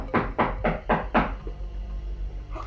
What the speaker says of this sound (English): How can you be knocking on...